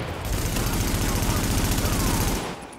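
Gunfire in The Division, a dense sustained burst of rapid shots from a firearm, loud and near, cutting off just before the end.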